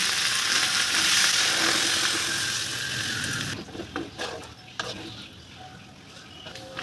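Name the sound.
coconut milk being added to a wok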